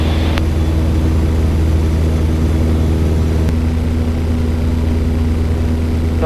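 A Piper TriPacer light aircraft drones steadily in flight over Alaska, with a loud, constant propeller and engine hum filling the cabin throughout.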